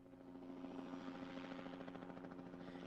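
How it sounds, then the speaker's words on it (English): A helicopter sound effect within a music track: a steady, droning rotor chop with a low hum, continuous and fairly loud throughout. "Helicopter sounds."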